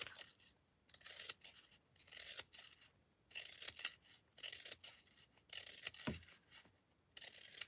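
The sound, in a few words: scissors cutting tassel thread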